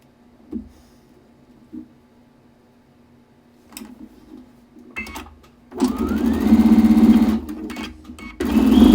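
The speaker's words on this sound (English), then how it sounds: "now we're gonna sew them together" A sewing machine joining completed quilt rows, with a few isolated taps and starts before a steady, loud mechanical whir of continuous stitching that pauses briefly and resumes.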